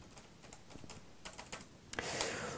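A computer keyboard is typed on in irregular bursts of soft clicks, close and quiet, while parameters are entered, with a brief louder rustle toward the end.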